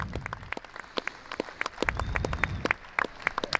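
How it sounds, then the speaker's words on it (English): Scattered, crisp applause from a crowd at a beef cattle show ring honors Purdue University's collegiate judging team, with claps popping irregularly and steadily throughout. "Give them a round of applause,"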